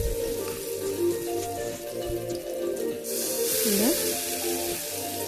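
Potato pakoras sizzling in hot oil in a pan, a steady bright crackle and hiss that swells louder partway through, with faint background noises and no talk.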